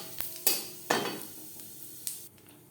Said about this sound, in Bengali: মাছ ভেজে নেওয়া কড়াইতে আবারও তেল দিয়েছি। ফোড়নে দিয়ে দেব গোটা জিরে।